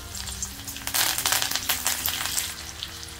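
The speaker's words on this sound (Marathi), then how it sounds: "कढईत तेल तापलेलं आहे, त्यात लसणाच्या ठेचलेल्या पाकळ्या टाकूया आणि कढीपत्ता" Crushed garlic cloves and curry leaves hit hot oil in a kadhai, giving a loud, steady crackling sizzle that swells after the first second and keeps spitting unevenly throughout, with no voices.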